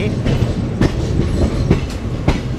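A train arriving at a station platform rumbles steadily with periodic rhythmic clacks of wheels over rail joints, a close, continuous rolling sound.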